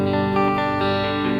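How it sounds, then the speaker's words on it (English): An electric guitar runs through a Line 6 Firehawk FX multi-effects processor with its reverb switched on, a sustained, distorted chord ringing with a washed, lingering tail and no voice. "I can even turn my reverb on and"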